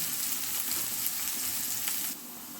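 Spring onion stalks and chopped green chilies fry in a pan with a steady, close sizzle that drops slightly quieter near the end.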